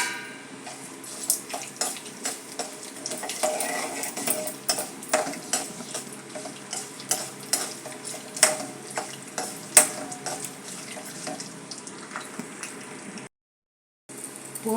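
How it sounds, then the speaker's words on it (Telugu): Chana dal, urad dal and mustard seeds fry in hot oil for a tempering, a steady crackling sizzle with scattered pops and the scrape of a stirring spoon against the pan, and no voices. "పోపు వేగుతోంది కదండి"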